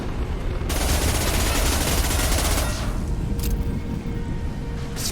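Sustained automatic gunfire from a weapon in the video game Mass Effect 2 roars in a dense, rapid burst for a few seconds, then gives way to rumbling combat noise with a couple of sharper cracks, loud and close.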